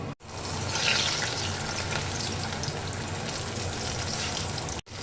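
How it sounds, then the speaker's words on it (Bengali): Steady, dense sizzling of taro frying in hot mustard oil, close and continuous, with a brief break near the start and end. "এবার এই তেলের মধ্যে এবার আমি গাঠি কচুগুলোকে সাঁতলে নেব"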